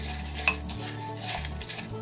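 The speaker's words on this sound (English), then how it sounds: "And let's just mix that on up with the butter." A spoon working gingersnap cookie crumbs into butter in a bowl, close scraping and clinking strokes with a sharp tap near the start, over a low steady background hum and no talking.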